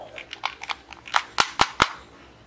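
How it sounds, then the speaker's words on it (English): A realistic toy pistol fires plastic toy bullets in a quick run of sharp cap-gun-like snaps, several lighter clicks building into four loud close cracks about a quarter second apart. "Plastic toy bullet. Realistic toy pistol."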